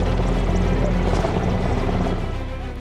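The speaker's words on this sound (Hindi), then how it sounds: "वायुसेना के हेलीकॉप्टर M-17 ने वंदे मातरम अंकित विशेष ध्वज के साथ उड़ान भरते हुए पुष्प वर्षा की" An Indian Air Force Mi-17 helicopter flies overhead, showering flowers at a ceremonial event, making a loud, steady rotor and engine roar that fades slightly at the end.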